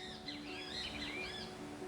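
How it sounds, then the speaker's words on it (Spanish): Small birds chirp and tweet outdoors in a quick, overlapping flurry of calls, faint and fairly distant beneath a steady low hum, with no talking. "Me quedé escuchando los pajaritos recién."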